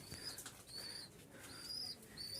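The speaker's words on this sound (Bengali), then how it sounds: "এই যে এখানে এক জোড়া কবুতর আছে ডিমে বসে আছে এখানে এক জোড়া আছে রাজশাহী গিরিবাজ" Rajshahi Giribaz pigeons in a loft: soft wing flaps and low coos mixed with faint chirps, close and fairly quiet, with brief fluttering bursts recurring across a couple of seconds.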